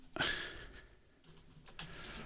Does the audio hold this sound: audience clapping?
no